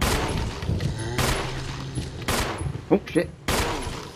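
Gunfire in the Resident Evil 1 video game: several loud bursts of shots at intervals, with a person swearing in alarm between them.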